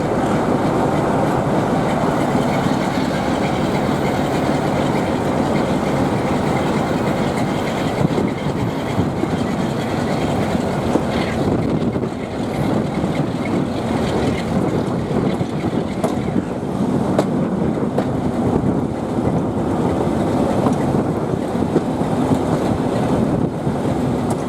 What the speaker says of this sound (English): The locomotive was one of 2 star attractions at this event.